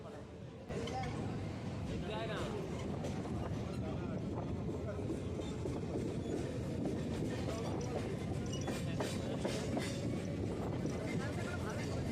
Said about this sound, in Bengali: ট্রেন এখন ব্রেস ব্রিজ ছেড়ে চলে যাচ্ছে